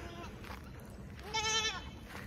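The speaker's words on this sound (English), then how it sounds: "Got some new little goat friends" Young goats bleat nearby, a single clear wavering bleat standing out over soft farmyard background noise.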